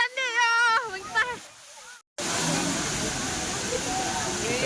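A person talks briefly, then the steady, broad roar of the Efrata waterfall takes over, close and constant.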